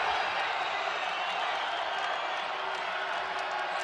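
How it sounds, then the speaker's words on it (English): A crowd cheers in a basketball arena during an NCAA men's game between Utah State and Wyoming, a steady, dense roar of voices held at a constant level throughout. "the crowd is on their feet"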